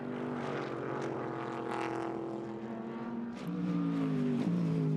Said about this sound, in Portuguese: Aí está o Audi R8 a regressar à pista